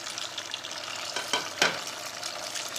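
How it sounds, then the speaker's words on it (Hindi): Soya chaap pieces frying in hot oil, a steady close crackling sizzle with a couple of brief louder spits, no voices. "और हम 2 बैचेस में सोया को फ्राई करेंगे"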